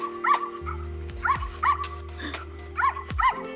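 A dog barking in short repeated yips, about seven sharp barks in uneven pairs, fairly close, with a low tonal hum beneath.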